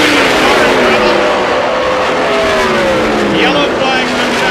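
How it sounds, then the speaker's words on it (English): IndyCar race cars at the 1997 Pikes Peak 200 oval race, a steady loud roar of engines with rising and falling pitch as cars circle the track, continuous throughout with no pauses. "There is Stewart as he comes off of 2. Then the blue car, second place, Greg Wall"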